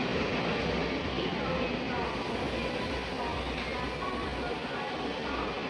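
An empty goods train pulls out of Thane station, a steady broadband rumble of wagons rolling past nearby, continuous and loud throughout with no pauses.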